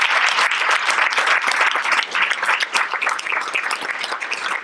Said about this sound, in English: And one more round of applause to our team at Brand Innovators.